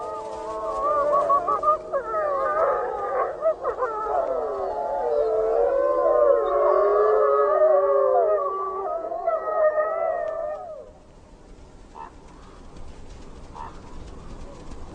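A wolf pack in Yellowstone's Lamar Valley howls together, several overlapping long rising and falling voices sustained for about ten seconds, then fading to a few faint distant calls.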